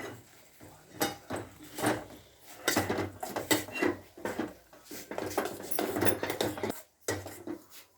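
A spoon stirs Maggi noodles and masala around a pan in repeated scraping, clinking strokes, close and fairly quiet, with brief pauses between bursts.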